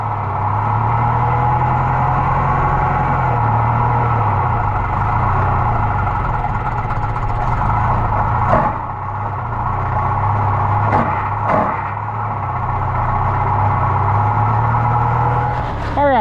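A John Deere 43 corn sheller runs steadily with a loud, continuous low mechanical drone and engine-like hum, interrupted by a couple of brief clunks and a short knock near the end.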